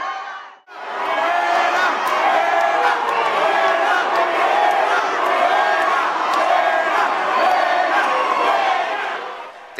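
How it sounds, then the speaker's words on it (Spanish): Students at the Ibero boo and shout in protest at Enrique Peña Nieto, a dense, continuous crowd roar of jeers and yells that swells after a brief opening pause and holds loud to the end. "encontró un ambiente hostil, pues fue recibido con abucheos y pancartas"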